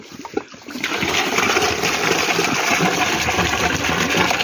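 Water gushes and splashes steadily after a brief knock, a continuous rushing pour that stays loud and close for several seconds.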